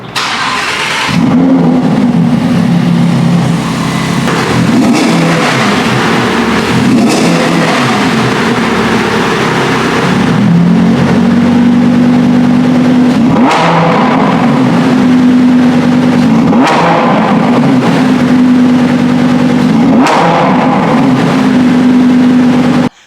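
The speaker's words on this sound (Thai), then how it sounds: "และท่อตรงนี้นะครับก็จะเป็นสปอร์ตเอ็กซอส" An Audi R8 V10 Performance engine revs loudly and repeatedly through its sport exhaust, the roar rising and settling back between bursts, close by with no talking.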